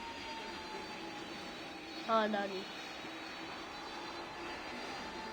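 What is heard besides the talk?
airplane engine in Roblox game PTFS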